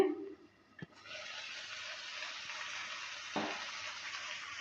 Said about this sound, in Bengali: ঢাকনাটা তুলে নেওয়ার পর নেড়ে চেড়ে নিচ্ছে